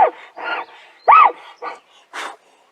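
A person's voice imitates a dog, with a string of five short growling huffs and grunts in a rough, barky rhythm, one louder and harsher than the others, close to the mic with no other sound.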